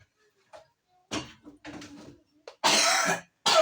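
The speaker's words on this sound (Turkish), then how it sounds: "Ben de yol yürüyünce çok öksürüyorum" Several harsh coughs from someone coughing while walking, in separate bursts, close and loud, with the last ones strongest and longest, separated by short quiet gaps.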